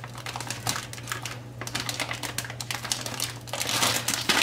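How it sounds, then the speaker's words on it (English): Crinkling plastic as air is pressed out of a bag holding a food tray of leftover turkey and ham, a steady close rustle with sharper crackles and a louder burst of crinkling near the end. "And I try to get out as much of the air as I can."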